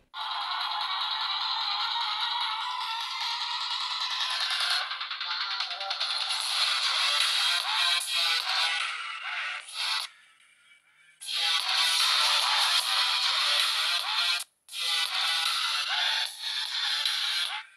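Ringtones play through the single mono speaker of a budget UMIDIGI A11 smartphone: thin, bright melodies with no bass, fairly loud and close, in several bursts split by short silences.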